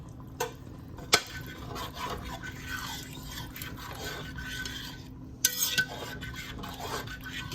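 A spoon stirs milk and heavy whipping cream in a pot, giving soft scraping and swishing against the metal with a few sharper clinks, close and fairly quiet with no talk.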